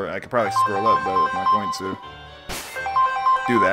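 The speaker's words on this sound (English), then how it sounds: "Sorry, that's my phone." A mobile phone ringtone plays a repeating melodic tone pattern, loud and close, under someone talking over it.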